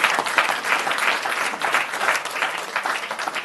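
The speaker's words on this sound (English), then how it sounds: "So give them a round of applause and thank you." A round of applause at a city council meeting for volunteers of the hometown fair, brisk and steady clapping from a room of attendees, fairly close and pulsing slightly as it continues.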